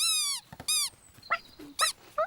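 A cartoon dog whimpers and whines in a series of high, wavering cries with short gaps between them, close and clear with no talking.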